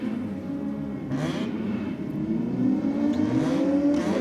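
A rotary-engine car revs and drones continuously at close range at a drag strip, its pitch rising and falling with a buzzy rotary whine over steady road noise.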